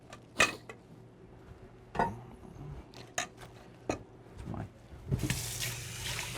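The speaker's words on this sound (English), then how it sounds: "I'm also going to add some water." Water splashes and clatters into a bowl of ice while cooling a filling for lobster ravioli, with uneven knocks and a gushing pour near the end, close and fairly quiet.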